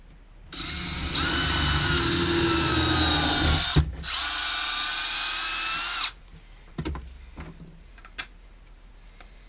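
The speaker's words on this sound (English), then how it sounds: "The other one is going to need a little bit of fine tuning with the drill." Handheld power drill enlarging holes in a homemade chain guide for a DR 650 motorcycle, a loud close whine in two bursts with a brief stop between, followed by a few light clicks and knocks as it stops.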